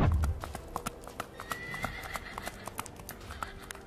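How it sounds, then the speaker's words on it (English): A Morgan horse's hooves clip-clop in a steady, even rhythm for several seconds. A neigh comes near the start, and the sound is moderately close with no speech. "The Morgan Horse."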